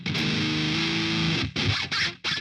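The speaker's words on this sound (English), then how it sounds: "you're playing guitar with distortion" Heavily distorted electric guitar played through a Boss Katana solid-state amp with a brutal death metal tone, a loud sustained chord ringing for about a second and a half, then choppy palm-muted bursts separated by short gaps.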